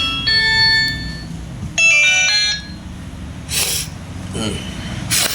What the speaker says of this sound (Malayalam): അതാ ഡാഡിക്കുള്ള മൊബൈൽ അടിക്കണു ആരാന്നറിയില്ല